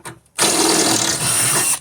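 A power drill whirs loudly into car body metal for about a second and a half after a short pause, a steady high-pitched drilling drone that cuts off abruptly.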